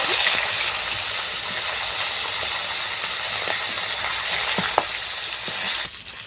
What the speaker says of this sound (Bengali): মাছের মাথা একই রকমভাবে আমি সবগুলো মাছ ভেজে নিব